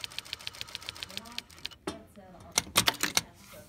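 A Brother 7100 sewing machine stitches in short rapid bursts, a regular ticking chatter that pauses and resumes with a few louder clacks near the end, up close in a quiet room.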